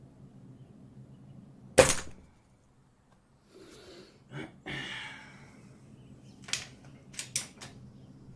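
A Crosman F4 air rifle fires an H&N Baracuda pellet, a single sharp crack up close followed by a short ring, then faint handling clicks and mechanical noises of the gun.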